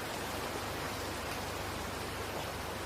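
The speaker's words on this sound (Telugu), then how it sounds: "వర్షం స్టార్ట్ అయింది" Steady rain falls outdoors in a forest during a wild cooking outing, a dense, even hiss that holds at the same level from start to finish with no voices.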